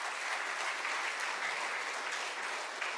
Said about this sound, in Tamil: பலமா ஒரு கரகோஷத்தை கொடுங்க பார்ப்போம்.